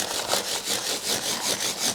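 Fine-grit sandpaper rubbing back and forth over the metal frets of a guitar during fret restoration, a steady rhythmic hiss of repeated strokes, close and fairly loud, with no voices.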